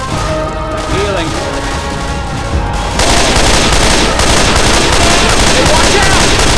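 Dense, loud automatic gunfire from the video game Left 4 Dead 2, rattling continuously and intensifying sharply partway through into a thick barrage with crashes and game effects layered over it.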